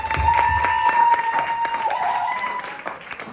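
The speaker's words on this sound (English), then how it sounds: "Clap for Karim, UA92." A crowd at a Moss Side talent show claps for Karim, scattered hand claps under a steady tone and a few cheers, loud at first and easing toward the end.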